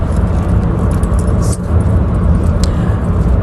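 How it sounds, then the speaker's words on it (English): Interior noise of a car traveling on roads in the UK, a loud, constant low rumble of engine and road with faint rattles, no voices. "sorry for the background noise, if any, because we are traveling in a car in"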